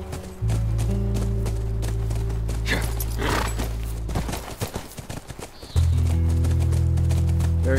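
Horse hooves clip-clop in a steady run near a ranch in The Last of Us Remastered on PS4, with a whinny partway through, a droning music bed underneath, and a sudden louder low tone near the end.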